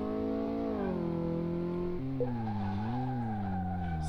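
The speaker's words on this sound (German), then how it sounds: "Mit quietschenden Reifen fahren wir hier los" Tires squeal as a car pulls away in Car Mechanic Simulator 2018, a steady, loud screech with a rising engine note that drops pitch partway through, with no talk.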